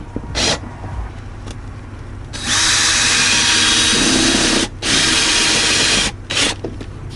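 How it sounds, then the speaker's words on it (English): A power drill bores pocket holes in wood in bursts: a short whine, then two long loud runs and a final short burst, separated by brief pauses of quiet room noise. "I'm gonna go ahead and make those pocket holes"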